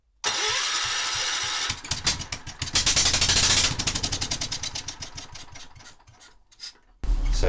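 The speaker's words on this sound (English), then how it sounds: "so she'll run, it will spark and fire, it's got good compression, it's doing what it's supposed to" A Kohler K241S small engine cranks and fires, running briefly with rapid rhythmic putters that slow and fade before it starts again at the end, close and loud, alone without talk.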